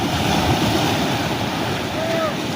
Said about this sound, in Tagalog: Nag-aabang tayo ng malaking alon